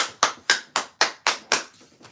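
A steady run of sharp hand claps, about four per second, close and crisp, with no voices, fading slightly toward the end.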